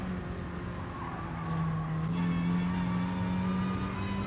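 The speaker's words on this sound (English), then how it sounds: "Let's see what the Sirocco sounds like from inside the car" A Volkswagen Scirocco race car in a touring-car racing game, heard from onboard, holds a steady droning engine note that steps up in pitch, with faint tire squeal and no talk.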